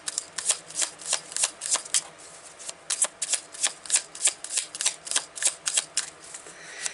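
A deck of tarot cards being shuffled by hand, with a fast run of crisp riffling snaps close by, repeated steadily with brief pauses and no voices.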